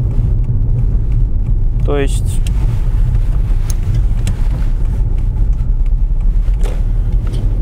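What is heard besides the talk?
Volkswagen Passat B5 with chipped engine driving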